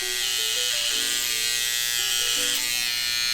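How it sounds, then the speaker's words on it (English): An electric hair clipper trims a beard clipper-over-comb style, giving a steady, loud, close buzz that shifts pitch slightly as it cuts, continuous for a few seconds with no voices. "you just want to come in and just trim these down, clipper over comb"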